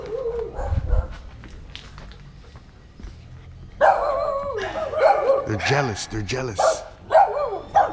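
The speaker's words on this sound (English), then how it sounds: "then the dog starts barking" Dogs on an organic farm in Mexico bark and yip repeatedly in excited bursts, close and loud, after a quieter stretch where a person speaks briefly.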